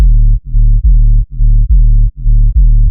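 Square-wave sub bass for a riddim track, shaped by a pitch envelope: seven loud, deep sustained notes in a steady rhythm, each starting with a quick downward pitch drop, played alone with no talking.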